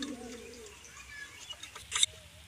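Domestic pigeons, including lotan and chila breeds, giving low soft coos close by, with rustling and a brief sharp flutter or tap near the end.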